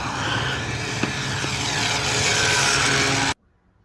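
Small balsa free-flight model plane converted to radio control, its propeller motor giving a steady buzzing drone throughout, loud and continuous, then cutting off abruptly near the end.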